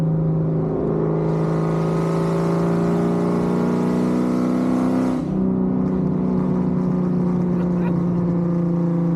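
A 1999 Ford Mustang Cobra with a Kenne Bell supercharger accelerates close by. The loud, droning engine note climbs steadily with a rushing hiss over it, then eases off and settles into a strong, steady hum.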